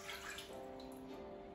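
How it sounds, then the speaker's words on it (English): Warm water poured into a bowl of yeast for crostoli dough, a faint, steady splashing trickle with a light tonal ring, continuous and close, with no talking. "And now put the water, it's warm water to dissolve the yeast."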